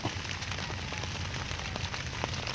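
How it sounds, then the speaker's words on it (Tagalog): Heavy rain falls on a farm field of one-month-old Calixto F1 eggplant, making a dense, even hiss with scattered sharper droplet taps. The rain is steady and fairly close, and no voices are heard. "hanggang dito na lang po kasi lumakas na ang ulan"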